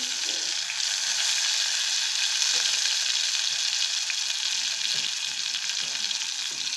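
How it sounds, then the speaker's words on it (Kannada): Washed rice and moong dal frying in a pan for sweet pongal, a loud, dense, unbroken sizzle close by, steady for the whole stretch with no talking. "ಚೆನ್ನಾಗಿ ಸ್ವಲ್ಪ ಫ್ರೈ ಮಾಡ್ಕೊಳ್ಳೋಣ"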